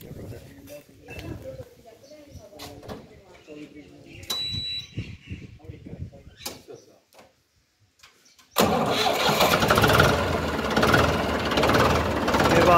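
A Ford 3600 tractor with a modified ADI engine cranks on its self-starter and catches, going from quiet speech-filled moments to a loud, dense, steady engine roar that holds to the end.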